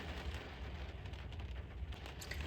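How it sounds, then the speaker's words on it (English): Heavy rain falls during a storm along the Icefields Parkway, making a constant close patter with a deep low rumble underneath. It is fairly quiet and steady, with no voices. "and a few pretty good cracks of thunder."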